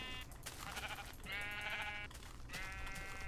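Sheep bleating in a video game, a few wavering, nasal bleats in a row with short gaps, fairly faint and heard alone without talk.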